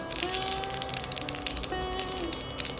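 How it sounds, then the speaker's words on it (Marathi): Mustard seeds crackle in hot oil, the first step of a Mumbai-style vada usal, with dense, rapid close-up pops and sizzling spatters over a faint background hum. "चांगली तडतडते मोहरी."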